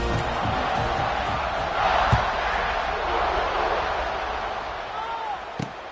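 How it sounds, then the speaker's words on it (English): Dense stadium crowd noise at a college football game, a steady broad roar of many voices with a brief louder swell and a couple of sharp knocks, continuous throughout. "this crowd is buzzing after that last score"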